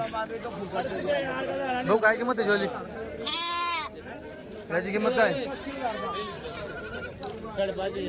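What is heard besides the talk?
goats bleating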